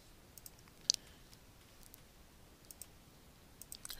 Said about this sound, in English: So I double click on the package name